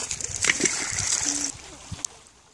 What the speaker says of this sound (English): Just about to throw rocks in the water.